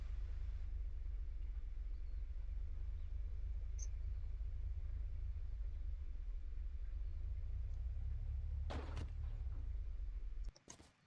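Steady low engine rumble from a car being driven in the video game Unturned, droning continuously for about ten seconds with a few brief clicks near the end before cutting out.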